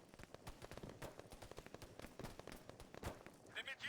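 Machine gun fire in the Arma 3 military shooter, rapid bursts of sharp cracks and gunfire with uneven rhythm, fairly faint and distant in a busy firefight.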